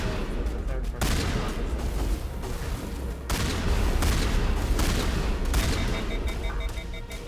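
Dense shotgun and weapon fire in the sci-fi shooter Mass Effect Legendary Edition, loud and continuous with heavy booming blasts, a voice briefly speaking over the din.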